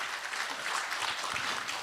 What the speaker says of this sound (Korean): 그러면 박수가 나와야죠.